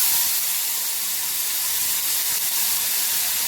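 Chopped tomatoes tipped straight into hot oil with cumin seeds, raising a loud, steady, close sizzle and hiss that fills the whole stretch without pause.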